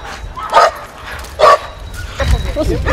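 Dog barking in short bursts during bull sports bite training of a fighting breed, two sharp barks followed by rougher yelps, close and loud with background noise and faint talk.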